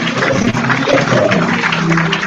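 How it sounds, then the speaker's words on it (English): Audience applause at a public health lecture on combatting Lassa fever, a steady, full wash of clapping sustained throughout without a break. "Please, a better round of applause."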